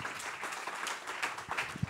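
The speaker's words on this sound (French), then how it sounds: "Vous applaudissez s'il vous plaît le domaine du bi." An awards ceremony crowd applauding, a brief burst of steady clapping with a few sharper individual claps standing out near the end.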